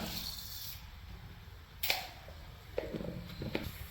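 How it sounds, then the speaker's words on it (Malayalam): Mustard seeds pop in a hot pan of coconut oil, giving a few sharp, scattered crackles over a soft background hiss, close and fairly quiet. "കടുക് പൊട്ടിക്കഴിഞ്ഞിട്ടുണ്ട്"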